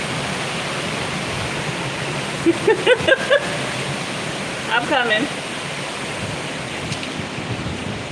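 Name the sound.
ocean waves at Osu Castle, Ghana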